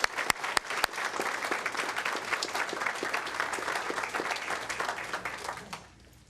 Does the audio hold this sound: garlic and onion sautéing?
no